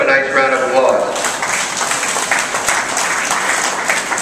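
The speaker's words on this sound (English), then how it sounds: "Let's give them a nice round of applause." Crowd applause at a county fair dairy show, a broad steady clapping wash that carries through the whole stretch with no break.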